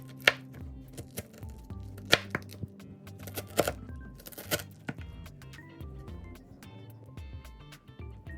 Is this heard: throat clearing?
no